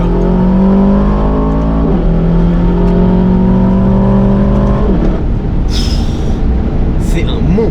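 Aston Martin DBX 707 SUV accelerating at half throttle, a loud, deep engine drone rising in pitch inside the cabin, dipping briefly as it shifts gear, then a rougher roar with a faint squeal near the end.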